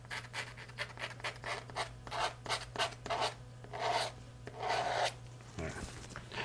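Paint being scraped across a canvas to form a tree line, a run of short rasping strokes in a steady rhythm, close and fairly clear, with a low steady hum underneath.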